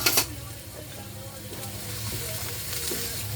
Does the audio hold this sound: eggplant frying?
yes